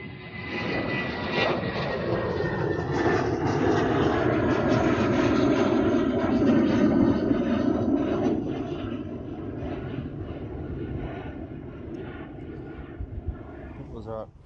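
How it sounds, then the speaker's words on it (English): Vueling airliner passing at Amsterdam Schiphol Airport, a loud jet engine roar with a descending whine that peaks midway and then slowly fades, while a voice talks over it. "That was our Vueling flight."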